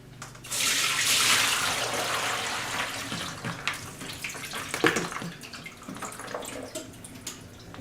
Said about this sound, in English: after soaking them overnight, I also rinse them, and now I'm going to drain them